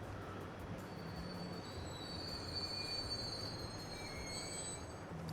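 A freight train rolling in the Transport Fever 2 simulation game, a steady low rumble under long high metallic wheel squeals that rise and fade throughout, with no voices.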